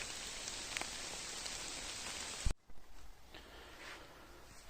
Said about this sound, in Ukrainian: Дощик змусив нас йти додому.